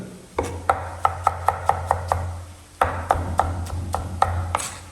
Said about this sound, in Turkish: şöyle domateslerimizi ufak ufak doğruyoruz